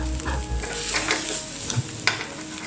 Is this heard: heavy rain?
no